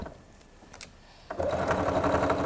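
A sewing machine stitches a seam in a craft setting, starting after a brief pause with a steady, close, continuous motor whir and rapid needle clatter.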